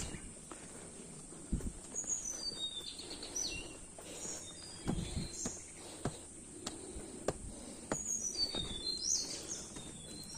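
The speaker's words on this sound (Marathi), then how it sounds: "आजूबाजूला आवाज आहे का तुम्ही पक्ष्यांचा?" Birds chirp and call intermittently near a temple path by a banyan tree, faint and somewhat distant, over a soft bed of insect buzz and scattered footsteps or rustling.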